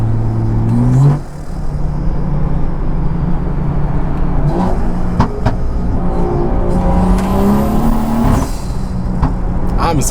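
A BMW 340i with its B58 engine revs hard under heavy acceleration with wheelspin, a loud, rising engine whir that cuts briefly and then climbs again close to the car, with no talking.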